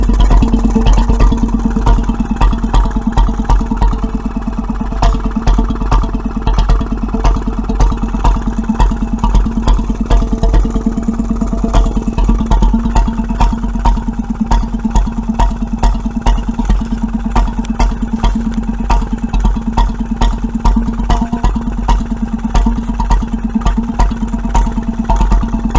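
A 1925 Petter M 1 1/2 HP vintage stationary engine with its original exhaust silencer runs loud and close, a fast, steady chugging beat with mechanical clatter holding an even rhythm throughout.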